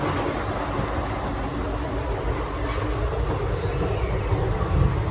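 Steady rumble of a long-distance sleeper train on the move, heard from inside the coach, with continuous broadband wheel and rail noise, a few faint high squeals and no voices.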